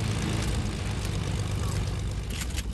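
A steady propeller-plane engine drones in a video game, a continuous close buzzing hum holding level for the whole stretch with faint game sounds beneath.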